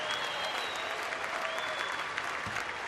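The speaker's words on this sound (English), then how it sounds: "Let's have a warm round of applause for Lieutenant Commander Kerr" A crowd gives a warm round of applause for Lieutenant Commander Kerr at a public event. The dense clapping sounds fairly soft and distant and holds steady throughout, with a faint tone running underneath.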